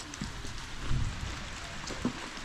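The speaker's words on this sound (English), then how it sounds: "it's raining" Rain falls steadily in a village garden, a soft continuous patter with a few louder drops, fairly quiet and with no talking.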